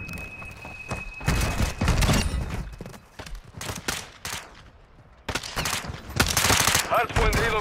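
Bursts of automatic gunfire from a Call of Duty: Modern Warfare II hardpoint match come in rapid clustered volleys with short quieter gaps, loud and close, with a faint steady tone running through.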